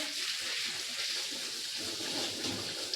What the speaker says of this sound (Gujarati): પાણી આવ્યું છે અને હવે ભરવાનું છે